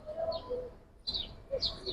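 Soft coos and chirpy calls of a khaki Giribaz pigeon in Old Dhaka come in short bursts separated by brief pauses, fairly close and moderately loud.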